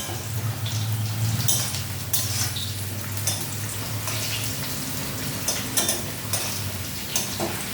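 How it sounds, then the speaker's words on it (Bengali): Cumin seeds frying in oil in a pan, previously used for frying egg, for a potato and eggplant dish, giving a constant close sizzle with scattered crackles and pops, no talk over it. "এখন খালি জিরে ফোড়ন দিয়ে তো ভাজছি।"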